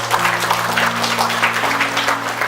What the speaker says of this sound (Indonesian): Kita beri aplaus untuk Tuhan.